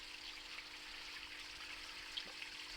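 A thin, steady stream of water runs down a log from the woods into a garden pond, a quiet, even trickle with no talking.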